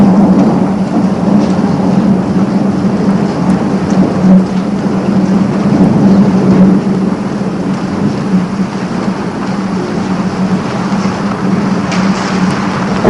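Steady rain with rolling thunder from a thunderstorm, a continuous dense wash of falling water and low rumbles throughout, loud and close with no voices.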